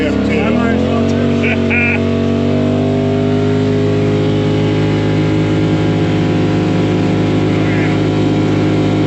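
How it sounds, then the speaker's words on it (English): A truck drives past, heard from inside a 2022 Polaris RZR Pro XP4, as a loud, steady engine roar with rising and settling tonal hum that fills the whole clip, with faint cabin noise. "Here comes the truck."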